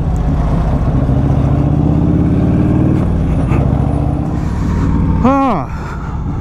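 Engine of a 1984 Harley-Davidson FLT Tour Glide motorcycle running steadily during a ride through a neighborhood, a constant low rumble with a brief lull near the end and a short whistling chirp.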